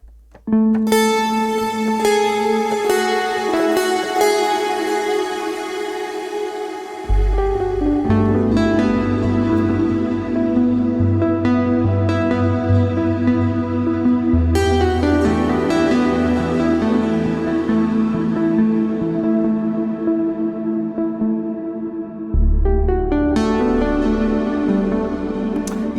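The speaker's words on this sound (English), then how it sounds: "it then goes into the flanger" Synthesizer chords and notes with a sweeping, whooshing flanger swirl, playing continuously and loudly with the bass dropping in and out, and no speech.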